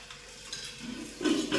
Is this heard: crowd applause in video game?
no